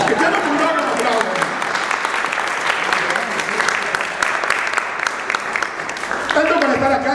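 An audience at a book presentation breaks into a round of steady applause, many hands clapping together, fading slightly near the end as a voice speaks over the final moments.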